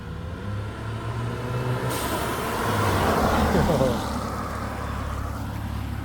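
A B8 Audi A4 2.0 engine fitted with a diverter valve spacer runs nearby, rumbling steadily with a brief rise in revs and a short hiss of released air partway through.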